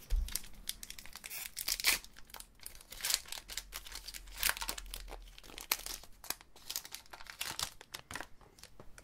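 Repeated crinkling and tearing of tape and plastic wrapping on a Pokémon card booster pack, close up, in irregular bursts with no one speaking.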